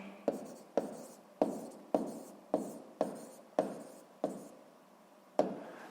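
Chalk strokes on a classroom board during a sixth-grade math lesson, tapping and scraping in about nine sharp, evenly paced bursts, each with a quick attack and short scratchy tail, close and fairly loud with no talking.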